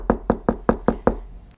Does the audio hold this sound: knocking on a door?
yes